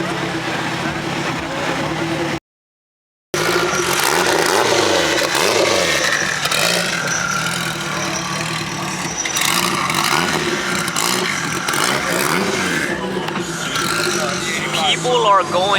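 Modified Toyota Mark II at a car meet, its engine revving hard through a loud, smoking exhaust, a continuous roaring drone that swells and falls with crowd noise around it and a brief dropout near the start.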